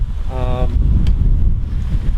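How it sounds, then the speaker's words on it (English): Strong wind at an outdoor archery shoot buffets the microphone with a loud, constant low rumble and gusty roar; a brief voiced sound rises early on. "It's pretty windy here."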